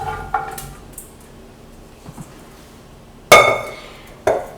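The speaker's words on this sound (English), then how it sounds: "To that, we're going to add our green beans." Washed, trimmed green beans tumble into a pan of oil set over medium heat. Two sharp, close clattering hits stand out against a quiet background, and no one speaks.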